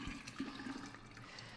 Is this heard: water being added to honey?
yes